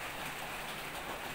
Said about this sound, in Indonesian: Tuh, di luar hujan